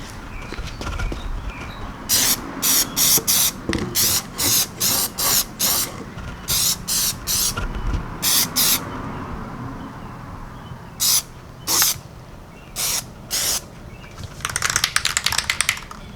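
Short repeated bursts of an aerosol spray can coating tail light bezels black, about a dozen hissing blasts with brief pauses between them, close and fairly loud over a quiet room.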